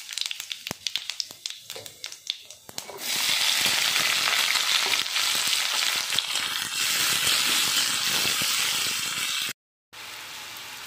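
Cumin and onion fry in a little oil for soybean curry, starting with a few stirs, then breaking into a loud, steady sizzle that runs on with brief clinks and a short break near the end.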